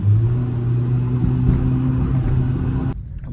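A car fitted with an aftermarket exhaust setup drones loudly and steadily at raised revs, a deep humming engine note that holds, then cuts off sharply near the end.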